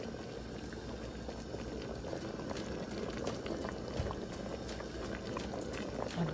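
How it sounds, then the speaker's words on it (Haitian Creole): Water boils steadily in a pot for an iron-rich soup, giving a continuous close bubbling and simmering texture with no speech. "On y a mis de l'eau à bouillir."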